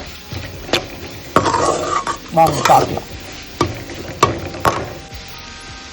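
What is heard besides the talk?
onions sautéing in a pan for bitter gourd fry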